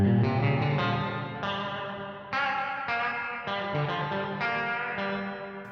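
Guitar through a cheap Eno reverb pedal set to spring mode, fully wet with no dry signal, giving a slightly metallic ring. Several strummed chords sustain and overlap in a dense reverberant wash, played loud and close with no voices.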